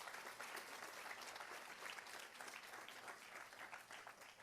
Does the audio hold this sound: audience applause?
yes